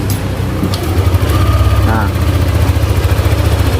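Yamaha motorcycle engine idling smoothly after repair of a rough-running fault, a steady close, loud rhythmic putter throughout, with a brief word spoken at the start.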